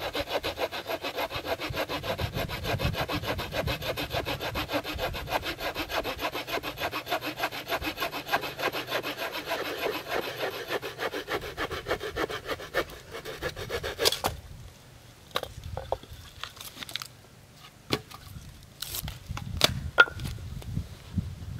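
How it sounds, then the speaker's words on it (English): A small multi-tool saw cuts through a wooden spindle with quick, steady back-and-forth strokes, close and continuous, then slows to a few scattered rasps and knocks as the cut finishes. "a Baco Laplander would make a lot shorter work of this than a multi-tool saw"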